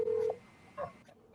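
A phone number is dialed for a call, heard as a single long steady tone followed by a short beep, clear and close in an otherwise quiet room.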